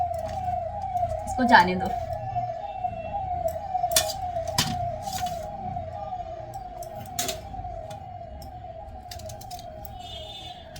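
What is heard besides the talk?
ambulance and police car sirens passing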